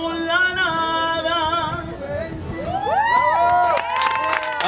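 An audience at a Mexican singing audition in Tijuana cheers loudly, with whoops, high shouts and whistles over a dense crowd roar that grows toward the end.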